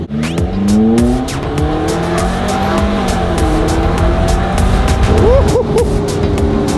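A McLaren supercar driven hard on a test drive, its engine loud and close with rising and falling revs, shifting gears and brief tire squeal.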